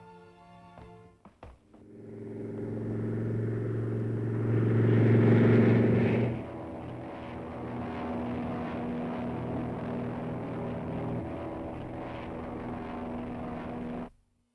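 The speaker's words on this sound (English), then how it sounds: "Dad's speed plane. Use that." A fast propeller speed plane drones steadily in an old radio serial, the engine swelling louder for a few seconds and then holding a long, even roar before cutting off abruptly.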